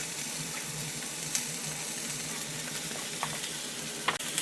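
Steak sizzles in butter in a pan on a small stove inside a van, giving a steady, fairly quiet hiss with a few light clinks and scrapes near the end.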